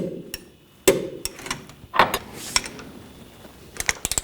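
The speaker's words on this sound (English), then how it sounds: "And torque the nuts to 85 foot-pounds." Sharp metallic clicks and clanks from a torque wrench tightening rear shock absorber nuts to 85 foot-pounds on a GMC Sierra 3500HD pickup, several separate ticks and knocks followed by a quick ratcheting burst at the end.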